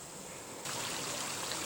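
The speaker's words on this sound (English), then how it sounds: "This is the little creek. Flows right through here, trickles down and over the edge." A small creek in a winter gorge trickles down and over the edge of a sheer cliff, giving a steady, close wash of running water that grows louder partway through, with no voices.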